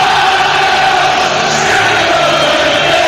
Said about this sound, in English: the Sheffield Wednesday fans will be loud and proud no matter what